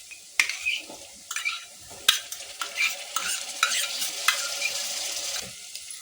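Chopped tomatoes sauté in hot oil with ginger-garlic paste for homemade pav bhaji, giving a soft, steady sizzle broken by sharp scrapes and clinks of a spatula stirring against the pan.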